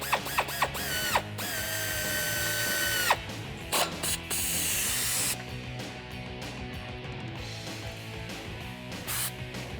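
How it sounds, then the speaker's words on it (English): Ratchet tightening a nut and bolt on a Jeep Wrangler TJ adjustable control arm, rapid clicking pawl bursts in short runs separated by pauses, close and fairly quiet with metallic ticks. "now we're gonna tighten up this nut and the bolt"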